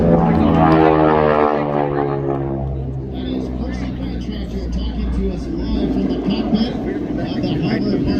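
A Harvard propeller warplane drones loudly overhead at the 2024 Toronto air show, its engine pitch sliding lower as it slows and passes, with a commentator talking over the roar.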